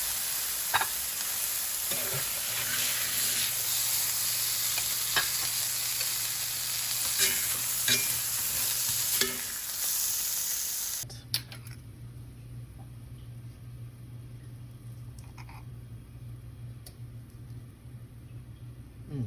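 Tuna steak frying in a pan, a steady close sizzle with scattered stirring and clicking sounds, then the frying continues more quietly and evenly after a sudden drop in level.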